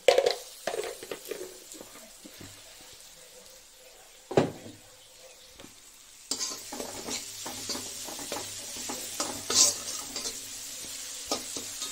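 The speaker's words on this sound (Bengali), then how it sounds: "কষাতে কষাতে আমি একটু মিষ্টি দিয়ে দিচ্ছি।" An eggplant curry with sesame-poppy paste is sautéed in a pan, with scraping spatula strokes and a few knocks of utensil on metal, then a louder, steadier sizzle with ongoing stirring, close by.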